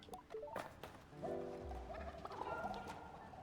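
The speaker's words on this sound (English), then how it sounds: "The chickens make really fun sounds in this." Chickens in the video game Sable make short, warbling clucks and gobbling calls that come and go against soft background game sounds, with no talking.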